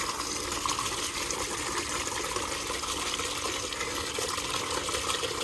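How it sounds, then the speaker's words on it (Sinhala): Water runs steadily from a tap into a basin for washing a motorbike, a continuous close gushing splash that stays even throughout with no voices. "මේ බාස්කට් එකට පොඩ වතුර ටිකක් පුරවගමු"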